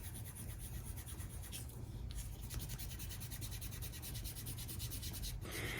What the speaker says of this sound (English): And it comes with a little stick to rub it on.